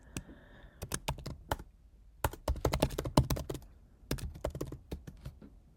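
Username being typed on a computer keyboard, heard as close, crisp bursts of key clicks separated by brief pauses, with no talk.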